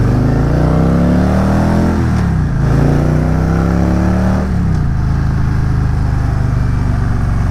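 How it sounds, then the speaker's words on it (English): A car accelerates hard with a loud, steady engine roar from inside the cabin. The pitch climbs through two gear changes, with a brief dip at each shift. "A little emotional acceleration"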